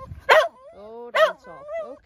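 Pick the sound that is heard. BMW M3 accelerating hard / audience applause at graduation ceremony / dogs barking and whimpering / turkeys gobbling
dogs barking and whimpering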